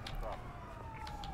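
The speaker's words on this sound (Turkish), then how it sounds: "Oo, bu sefer geldi ambulans." An ambulance siren in GTA 5, a faint steady wail under low background noise, with a voice talking over it.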